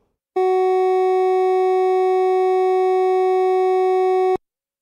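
A single sustained sine tone at F sharp, steady and loud, holding one pitch for about four seconds before stopping abruptly.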